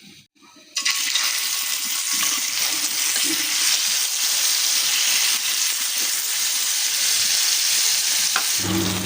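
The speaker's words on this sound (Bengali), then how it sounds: "তো গাইস এখানে মাছ ভাজা হচ্ছে" Marinated fish fries in a pan, a loud, steady crackling sizzle that bursts in abruptly after a quiet moment and carries on evenly, with occasional small pops.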